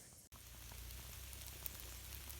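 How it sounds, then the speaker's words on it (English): Rain falls steadily outdoors, a faint continuous patter and hiss with an occasional louder drop, after a brief cut at the start. "It's raining."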